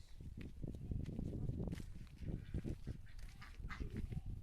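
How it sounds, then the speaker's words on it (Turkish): Ducks quack and honk repeatedly in a busy outdoor chorus, fairly close, with background murmur throughout. "Ördeklere bak hele."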